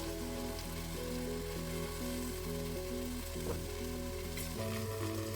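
Okra, lady's finger, frying in oil gives a dense, steady sizzle close by, with a faint repeating mechanical tone pattern running underneath throughout.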